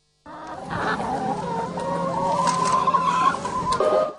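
A large flock of about 500 laying hens clucks continuously at an egg farm, with dense overlapping calls that hold steady and close throughout.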